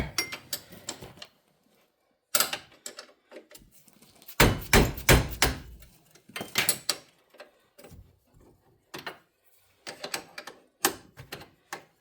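A hammer knocks at a worn brake hub on a Polaris Sportsman ATV, giving irregular clusters of sharp metallic taps and clanks with short quiet gaps between bursts.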